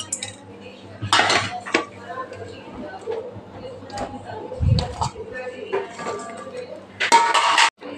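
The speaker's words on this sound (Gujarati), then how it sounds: "તો એક બાઉલની અંદર આપણે બધા મરચાંને લઈ લઈશું" Cut chillies for rayta marcha go into a bowl with several sharp clinks and clatters of utensils against dishware, close up in a quiet kitchen.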